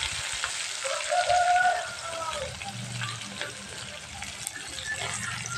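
Green chillies and onion pieces frying in a pan give a steady, fairly loud sizzling hiss with faint watery crackles throughout, and no voices.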